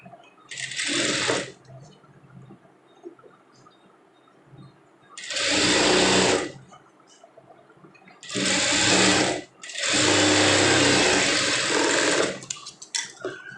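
A sewing machine stitching a lined blouse runs in four loud, close bursts: two short whirs, another short run, then a longer stretch, with quiet pauses between them.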